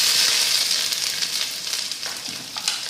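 Garlic and ginger sizzle steadily in a preheated pan, a loud, close hiss of frying that runs throughout with slight crackling variations and no talk.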